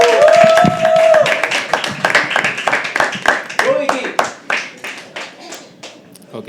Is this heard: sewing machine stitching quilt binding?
no